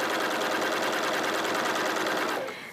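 A sewing machine runs at full speed through thick, folded layers of wadding, a loud, close, continuous rapid mechanical whir that winds down and stops near the end.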